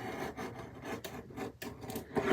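Paper cut for Christmas ephemera and a December Daily card, a close, steady rasping slice that runs for a couple of seconds with brief dips between strokes.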